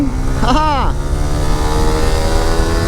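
A Honda CBR sports motorcycle's engine hums steadily close by as it shifts up through the gears, with someone talking briefly over it near the start.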